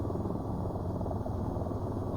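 AH-94 attack helicopter in VTOL VR, a steady, close, rumbling rotor and engine drone that runs evenly throughout with no voices.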